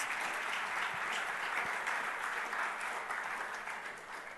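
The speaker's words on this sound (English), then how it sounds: "A round of applause for all the brands that made to the list." A conference audience at a BrandZ India 2018 event applauds the brands on a list, a steady wash of many hands clapping that holds evenly and tapers slightly at the end.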